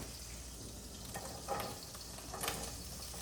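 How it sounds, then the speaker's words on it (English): Asparagus and shallots sizzle steadily in olive oil in a pan, a soft continuous crackle with a couple of brief louder bursts. "I'm gonna take my asparagus and my shallots and drop them in there"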